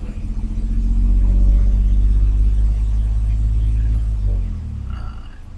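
Toyota Agya car engine revving up as RPM climbs, a loud steady low rumble that swells then drops back near the end, close by with no talk.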